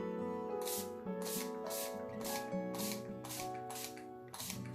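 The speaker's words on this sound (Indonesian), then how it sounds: "Semprot rata." Leather care spray misted evenly over a leather shoe in a run of about eight short, hissing bursts, each quick and close, heard over a steady tonal background with no talking.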